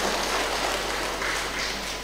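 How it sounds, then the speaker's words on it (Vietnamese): Steady, dense applause from an audience at a Buddhist nun's dharma talk in Vietnam, a continuous wash of many hands clapping at even loudness with no voices over it. "Được, cho một tràng pháo tay."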